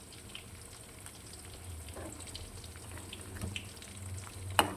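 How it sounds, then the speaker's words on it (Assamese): Fish frying in oil in a home kitchen, a faint, steady crackle and sizzle that runs the whole time with no one talking. "অন্যহাতে ইয়াত মই মাছ ফ্ৰাই কৰি আছোঁ"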